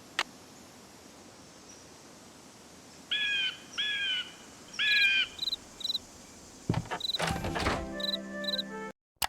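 Bird calls in the Nancy Drew Ghost Dogs of Moon Lake game: three bright repeated chirping bursts, then short high tweets, over a constant low insect-like background hiss, followed by louder clattering near the end.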